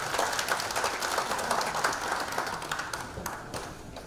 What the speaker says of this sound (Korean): 뜨거운 손뼉으로 환영해 주십시오